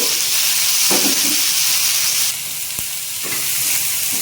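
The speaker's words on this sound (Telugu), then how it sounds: "ఇవి బాగా ఇట్లా వేయించుకోవాలండి, కలబెడతా ఉండాలండి, మాడిపోకుండా" Onion and tomatoes fry in a pan with a loud, continuous sizzling hiss, broken by a few soft stirring scrapes and a sharp clink of a utensil against the pan, with no talking.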